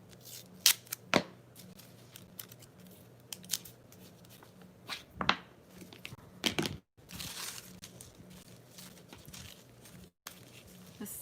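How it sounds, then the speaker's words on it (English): Masking tape rasps and crinkles in scattered bursts, with several sharp pulls and presses at close range amid quiet handling. "Let me go ahead and tape that down so you guys can see better what's going on."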